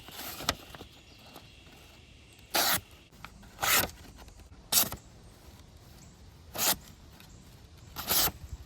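A SlickKnives Model 2 sheep's foot slip joint knife, new out of the box, slices through paper in five distinct rasping strokes spaced about a second apart, close and clear over a quiet room.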